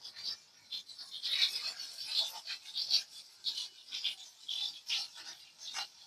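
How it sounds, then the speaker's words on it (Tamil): Onions for a green mango chutney stirred in a pan, rhythmic scraping and rasping strokes repeating every half second or so, fairly faint and close, with no talk. "வெங்காயத்தை நம்ம வந்து போட்டுக்கிறோம். நல்லா கிண்டி விடணும், இல்லைன்னா அடி பிடிச்சிடும்."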